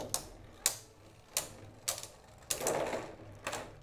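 Beyblade Burst spinning tops, Draciel Viper and Dronzer, clash in a stadium with a string of sharp clicking hits, about six impacts spaced roughly half a second apart, close and crisp over a faint whirring spin.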